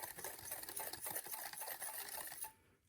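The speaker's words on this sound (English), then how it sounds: "I'll just open up this whisk and I'll just whisk it all together here" Ingredients for smoked pulled pork being whisked together in a bowl, a rapid, even ticking and pattering rhythm, close and faint, stopping abruptly near the end.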